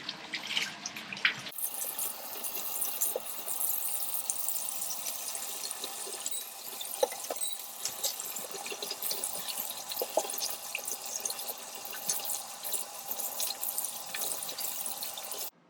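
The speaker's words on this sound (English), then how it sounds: "in this step we're going to rinse it out with cold water until the water runs clear" Steady running water from a tap, with splashing and faint drips as tie-dyed fabric is rinsed under the cold flow, continuous throughout.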